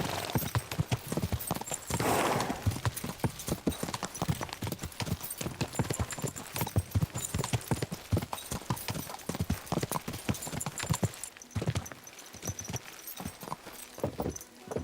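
Horse hooves clip-clop in a quick, steady trot throughout in the video game Kingdom Come: Deliverance 2, close and fairly loud, with a faint jingle of tack at times.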